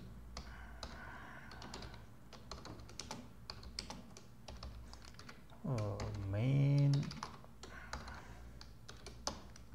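Quiet, rapid keyboard typing with irregular clicks, briefly joined by a short humming tone in the middle before the keystrokes continue.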